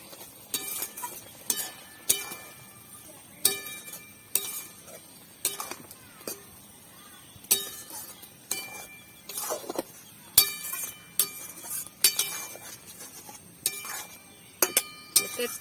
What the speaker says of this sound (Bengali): এই যে এটা আমি এবার ভালো করে নেড়ে চেড়ে দেবো।